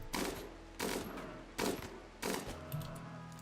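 Four separate loud gunshot bursts in RimWorld, fired at boomalopes at steady intervals of about three quarters of a second, each with a short decaying tail.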